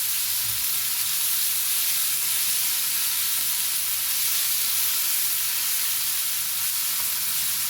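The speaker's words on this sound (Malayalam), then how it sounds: "തക്കാളി ഇട്ടിട്ട് നമുക്ക് നന്നായിട്ട് അത് ഇളക്കി കൊടുക്കാം" Tomatoes for capsicum biryani sizzle and fry in a pan, a steady close hiss without pause, while the mixture is stirred.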